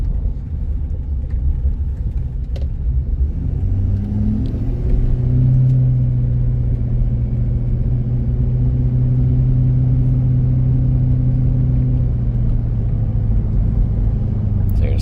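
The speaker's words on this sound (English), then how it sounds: "Truck sounds awesome." A 2019 Ford F-250 Super Duty Limited pickup idles steadily with a deep, even engine rumble, a low hum rising slightly in pitch partway through and holding throughout, continuous and close with no speech.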